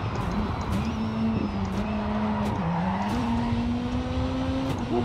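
Rally car engine in Dirt 4 rallycross hums at a steady drone, its pitch stepping down and then up through several gear shifts, with tyre and gravel noise throughout and no voices.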